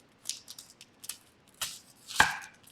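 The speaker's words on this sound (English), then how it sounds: "Now we're going to chop up a little bit of onion to go in it." A knife chops an onion on a cutting board in a loose series of about ten crisp strikes, some quick and light, a couple heavier, with quiet pauses between and no talking.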